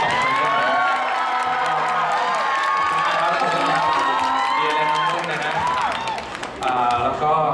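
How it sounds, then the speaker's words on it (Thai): Fans at a Thai celebrity fan meeting cheer, scream and clap loudly and continuously, with high excited shrieks and whoops layered over steady applause throughout. "ขอเสียงปรบมือเสียงกรี๊ดดังๆ"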